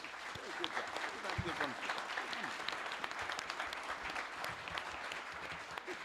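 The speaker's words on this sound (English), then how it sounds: "Let's give a round of applause to the panelists." A panel-discussion audience applauds the panelists with a sustained, even patter of clapping hands that stays moderately soft and somewhat distant from start to finish.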